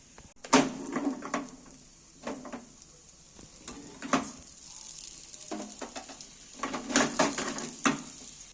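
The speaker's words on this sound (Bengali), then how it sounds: "পরোটাটা কিন্তু খুব কম তেলে ভাজা হচ্ছে" A paratha frying in very little oil gives a close, crackling sizzle that swells in bursts as it is pressed and turned, with a few clanks of the pan between the louder spells.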